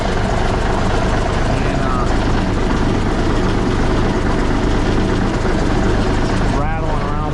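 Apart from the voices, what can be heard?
truck air compressor running, building pressure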